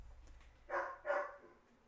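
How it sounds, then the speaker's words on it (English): A female dog barks twice in quick succession, two short, fairly loud barks close by with a quiet pause between them and no talking. "I don't know what she's barking at"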